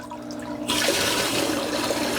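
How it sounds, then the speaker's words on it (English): Water is poured into a hydroponic reservoir, starting abruptly after a quiet moment and then continuing as a steady, rushing splash close to the microphone. "so we're going to go ahead and start adding some more water."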